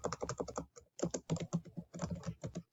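A score is typed on a computer keyboard in quick, close bursts of key clicks, with short pauses between runs and no voices.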